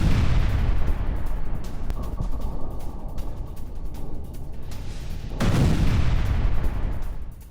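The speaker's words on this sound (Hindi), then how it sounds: "गाजा में इजराइल ने की है एक बार फिर जोरदार बमबारी" Heavy bombardment in Gaza: a dense, continuous roar of distant explosions and rumbling blasts, sustained and loud throughout, with a brief lull midway before the rumble swells again.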